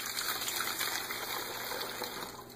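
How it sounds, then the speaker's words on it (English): Vinegar pours steadily into a plastic 2-liter bottle in a continuous gushing trickle, close by, for a few seconds with no talking. "Now we're going to be adding the vinegar into the 2 liter bottle."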